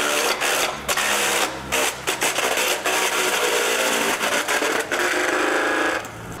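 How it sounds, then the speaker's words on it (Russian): At a battle robot competition, a robot's blade shreds a printer, giving a dense, loud, continuous grinding and clattering with sharp cracks as pieces break apart, lasting several seconds and easing off near the end. "Следующая жертва – принтер. Также уходит под нож смертоносной жатки и разлетается на куски."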